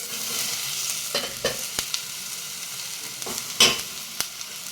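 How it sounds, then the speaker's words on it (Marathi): Capsicum pieces tossed into fried homemade black masala in a pan, sizzling steadily under intermittent stirring strokes and scrapes, close and moderately loud, with no talking. "मसाला चांगला तळून घेतलेला आहे। आता यामध्ये शिमला मिरचीचे कट केलेले आहे ती टाकायची आहे आपल्याला यामध्ये।"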